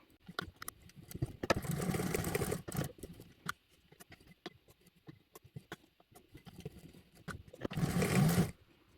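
Sewing machine top stitching a bag panel, two long loud stitching bursts with short pauses and scattered small clicks and handling noises between them.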